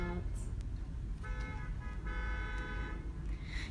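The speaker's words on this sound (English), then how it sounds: "There's honking. What's all that honking about?" Car horns honk at a parade, repeated toots sounding at intervals over steady traffic and street noise, fairly close.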